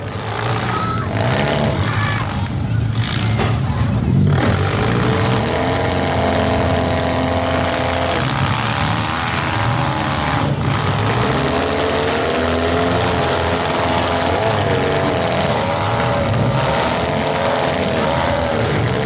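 Stock mini race cars roar around the track in a smash heat, engines droning loud and continuous with layered revving as the cars race and bump, plus scattered metallic knocks.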